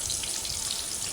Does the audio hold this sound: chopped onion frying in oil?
yes